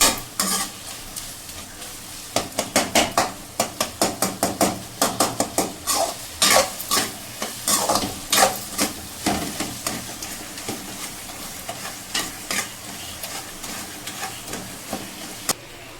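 Petha pumpkin curry stir-fried in a pan, loud and close: a run of rhythmic scraping spatula strokes against the metal over a sizzling base, with scattered sharper clinks toward the end.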